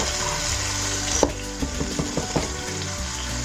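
Homemade tomato puree poured into frying masala in a pot crackles in a dense, steady sizzle, broken by a few soft knocks and scrapes as it is stirred, close and loud.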